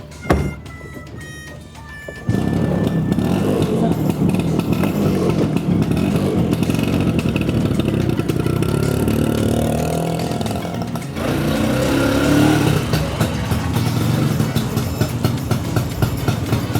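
A cold motorcycle engine starts after a few rattling clicks, then runs with a steady loud drone and rises in a brief rev near the end, close by with no talking.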